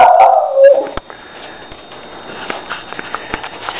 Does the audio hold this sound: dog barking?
yes